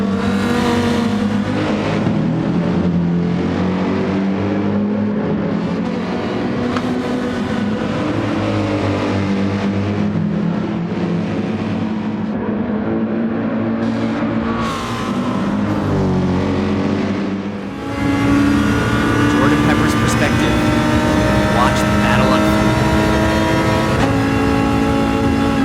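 Racing engines from a DTM race at the Nürburgring in Gran Turismo 7 roar loudly and continuously, with a Porsche among the cars, revving and shifting with pitch sweeps as the cars chase closely, a dense wall of engine noise throughout.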